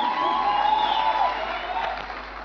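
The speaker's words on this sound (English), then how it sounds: "somebody clap hands for Jesus" A church congregation clapping hands and cheering in a brief burst of applause with some whoops, fairly loud and full, fading slightly toward the end.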